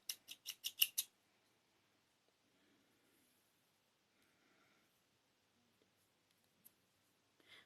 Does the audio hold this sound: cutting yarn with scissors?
yes